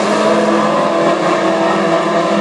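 WISSOTA modified race cars roar around Granite City Speedway in a dense, loud, sustained engine blare from several cars at once, with no break in the noise.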